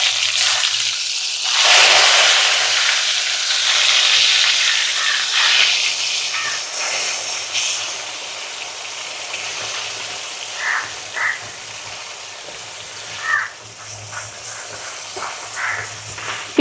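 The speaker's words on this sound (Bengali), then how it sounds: "পেঁয়াজ আর টমেটোটাকে খুব ভালো করে ভেজে নেব আগে।" Chopped onion and tomato fry in hot oil in a pan while cooking chicken kosha, giving a steady loud hiss and sizzle that gradually settles, with occasional louder spits and pops later on.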